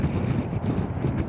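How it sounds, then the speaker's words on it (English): Strong cold wind buffets a camera filming beside Interstate 26 near Exit 5 in Kingsport, Tennessee, a dense, continuous low rumble of microphone wind noise, loud and close, with no voices. "The wind's blowing the camera around a little bit. It's really windy."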